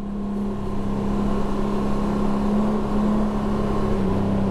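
Engine of a 2022 Honda Goldwing motorcycle pulling hard in sport mode, a steady close droning hum with a strong low tone held evenly throughout, no talking.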